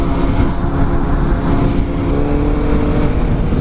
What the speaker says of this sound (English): just me riding around on a CBR 600RR